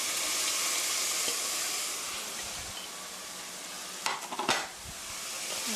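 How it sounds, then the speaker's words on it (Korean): Onion and garlic stir-fried in a wok for mapo tofu, a steady close sizzle and hiss throughout, with a burst of sharp scraping and clattering stirring near the end and no voices. "스터 프라이 3미닛 3분 정도 볶아주세요."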